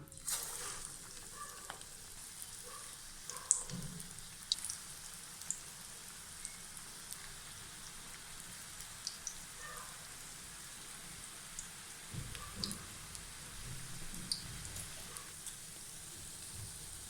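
Onion bonda batter dropped into hot oil crackles and sizzles steadily in a tea-shop style pan, a dense fine hiss with occasional louder pops throughout, no talking.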